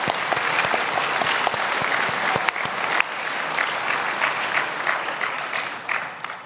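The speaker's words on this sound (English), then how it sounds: "Round of applause." A crowd applauds steadily at a PAX East 2022 Zelda convention panel, a dense wash of clapping with a few sharp individual claps standing out near the start.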